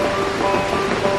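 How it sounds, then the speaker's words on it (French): The Red Coral Waterfall in Munduk, Bali, roars in heavy rain. Loud, constant, close-up rushing water fills the brief moment, with no voices. "on vient d'arriver à la première cascade qui est la Red Coral Waterfall et avec la pluie c'est encore plus impressionnant"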